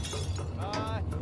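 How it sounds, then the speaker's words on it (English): Glass smashes as a basement window is broken through in a Buffy episode, a sharp crash with tinkling shards over dramatic score and speech, brief and close. "Buffy dramatically smashes through the basement window"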